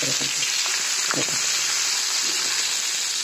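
Stuffed okra (masala bhindi) going into a hot flat pan, giving a steady, fairly loud sizzle and frying hiss with brief crackling bursts throughout.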